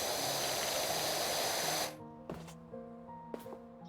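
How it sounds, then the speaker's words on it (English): Broadband spray hiss from a washer jet cleaning tall surfaces with heavy overspray, loud and steady, then cutting off abruptly, followed by quieter drips and soft knocks. "Oh, I'm getting too much overspray."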